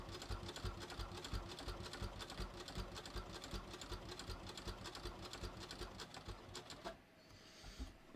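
A sewing machine runs steadily as it stitches around a welt pocket on a bathrobe at a stitch length of 3, its rapid mechanical rhythm close and continuous before stopping abruptly near the end.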